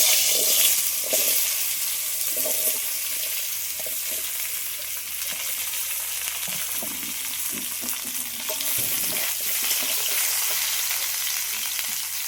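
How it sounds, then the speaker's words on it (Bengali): Turmeric-coated banana and potato pieces fry in hot oil with a steady, loud sizzle and crackle throughout, joined by occasional clinks of stirring and no talk. "কলা আর আলুগুলো হলুদ মাখিয়ে রেখেছিলাম, এইগুলো ভেজে নেব।"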